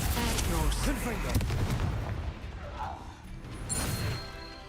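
In the video game Hogwarts Legacy, the Confringo fire spell sets off booming, crashing blasts amid battle, with voices at the start, followed by a sharp impact and fading rumble.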